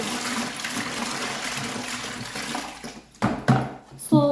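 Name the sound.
pouring water into a container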